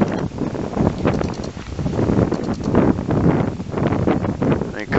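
Wind buffets a microphone outdoors at sunset, producing a loud continuous low rumble and gusty roar throughout, with a voice faintly present beneath it.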